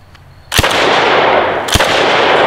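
A DDI LA-K12 Puma bullpup shotgun fires slugs at a bowling pin: two loud, sharp close-range blasts about a second apart, with a steady noisy wash continuing between and after them.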